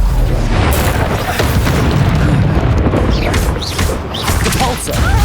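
A Reducto blasting spell detonates in Hogwarts Legacy, a loud sustained booming explosion with crashing debris and rumbling, followed by whooshing magical swirls and faint combat noises.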